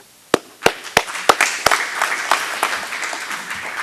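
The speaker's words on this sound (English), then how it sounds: "everyone up here deserves a round of applause" Applause from the audience at a county candidate forum in 2014, starting with several loud, separate claps and then filling out into a steady, fading round of clapping from a crowd.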